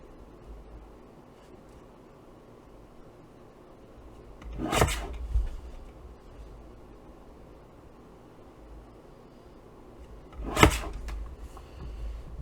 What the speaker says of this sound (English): put this in our trimmer, and we're going to cut from our edge here to that notch